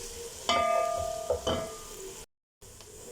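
Garlic ginger paste frying in a pan for chana dal, crackling sizzle with a couple of sharp bursts of stirring or spoon contact, then a brief dropout before the sizzle resumes more quietly.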